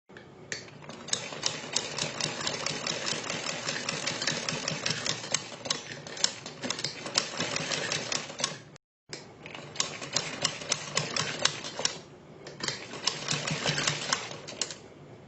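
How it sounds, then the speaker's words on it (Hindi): Electric sewing machine stitching along a marked line on fabric, a fast steady mechanical rattle running loud and close throughout, pausing briefly once before resuming. "यहाँ पर एक सिलाई लगाएंगे।"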